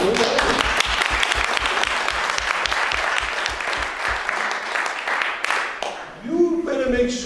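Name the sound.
audience applause for yeshiva staff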